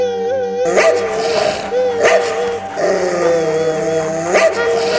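A pack of dogs barks repeatedly, mixed with yips and whimpers, over a sustained musical score as a film sound effect.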